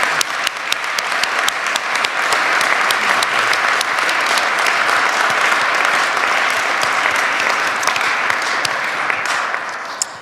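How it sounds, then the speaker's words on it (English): Sustained, dense applause from a ceremony audience at the University of Maine at Machias, honouring young singers, with many hands clapping steadily for about ten seconds before tapering off at the end. "let's have one more round of applause for our wonderful young people and their singing today"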